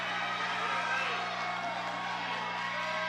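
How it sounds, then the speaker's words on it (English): Crowd noise at a Fury FC fight night in Houston, a steady far-off roar of cheering and yelling from a large audience, with low hum throughout. "This crowd is going crazy here."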